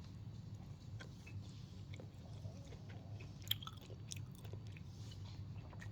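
Soft, close crunching and chewing as someone bites into a Taylor chip cookie, with faint irregular crackles over a low room hum and one sharper bite midway, no talking.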